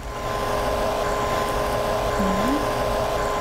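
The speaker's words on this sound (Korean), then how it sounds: "이렇게 말고 드라이기를 이용해서 열을 줍니다." Steady whooshing blow of a hair dryer heating hair wound on rollers, running continuously at close range, with a faint whining tone and a brief rising squeak near the end.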